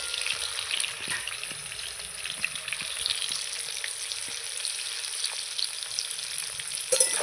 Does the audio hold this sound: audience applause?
no